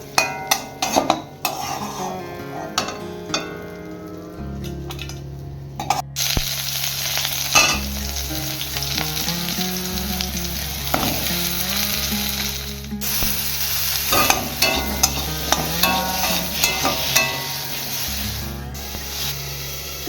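Bitter gourd and bori frying in a pan, a steady close sizzle broken by scraping stirs and clinks of a spatula against the metal, with a low hum running beneath.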